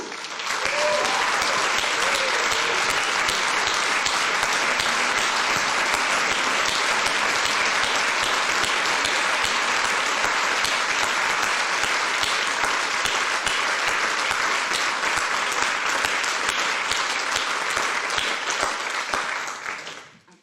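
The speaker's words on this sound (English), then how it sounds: "get a round of applause from all of us" Sustained audience applause for a retiring museum curator at a photography talk, dense steady clapping from a large crowd lasting about twenty seconds before fading out.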